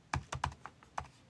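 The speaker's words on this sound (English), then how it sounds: "I'll just type it out." Computer keyboard typing, a handful of quiet, close key taps in an irregular rhythm over about a second, with no talking.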